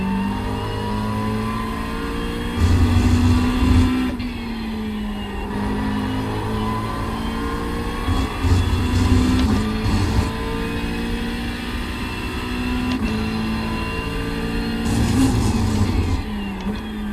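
A GT3 race car in iRacing at the Catalunya circuit, its engine revving hard and dropping under braking, then climbing again as it accelerates. The engine drones loud and close throughout, with repeated surges and downshifts.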